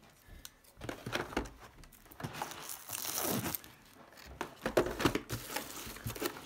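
Paper wrapping is torn open from a Drattak toy box, making irregular crinkling and ripping bursts that come close and fairly quiet, with short pauses between the tugs.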